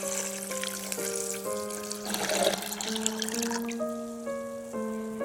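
Water being poured into a food processor holding drained soybeans for soy milk, a brief gurgling pour under steady tonal hum and beeps from the appliance.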